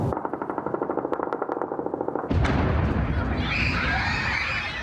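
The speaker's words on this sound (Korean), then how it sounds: "낮밤을 가리지 않는 폭발음에 놀라는 어린이들." Russian drone and missile attack on Kyiv: a rapid string of sharp, evenly spaced bangs like sustained gunfire, then a sudden loud, continuous roaring rumble of blasts that fills the rest of the clip.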